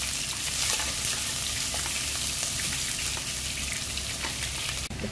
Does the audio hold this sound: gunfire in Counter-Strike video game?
no